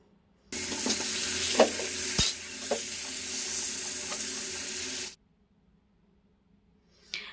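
Paneer cubes frying in oil in a kadai give a steady, close hiss of broad sizzling for about four and a half seconds, broken by a few sharp spatters. The sizzle cuts off abruptly, followed by near silence and a brief faint rustle.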